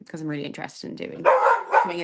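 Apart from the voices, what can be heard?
dog barking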